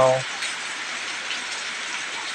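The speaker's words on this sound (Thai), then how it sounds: "ฝนตกอีกแล้ว" Steady rain falling outdoors in a rubber-tapping area during a power cut, a continuous broadband hiss that stays even throughout, with only a brief voice at the very start.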